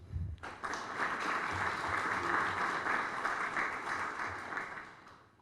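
Sustained applause from a conference audience, a steady wash of many hands clapping that starts abruptly and holds for several seconds before easing off.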